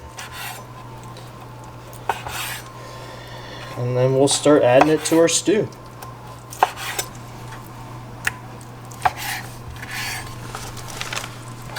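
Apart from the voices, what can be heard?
knife cubing venison steak on a board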